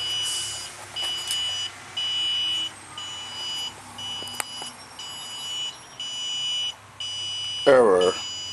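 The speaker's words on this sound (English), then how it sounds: "let's see if we can eliminate that beeping" A portable emergency jump starter gives a high electronic error beep near the end, over a steady mechanical hum and intermittent buzzing tones.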